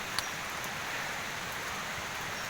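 Steady rain falls on a wet forest hiking trail at Puthuk Gragal, Mojokerto, a continuous soft hiss of drops on leaves with a faint tap or two and no voices.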